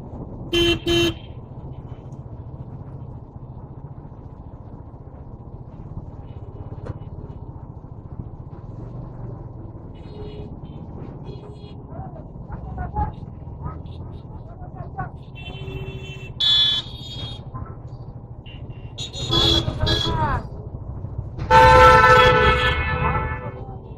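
Steady road traffic rumble heard from a modified Hero Karizma XMR motorcycle, with several car horns honking toward the end, some short toots and longer blasts, fairly close.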